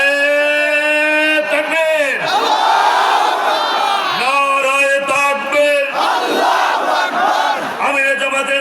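A large crowd loudly chanting slogans in call-and-response unison at a Jamaat election rally in Pabna, voices swelling and falling in repeated rhythmic waves.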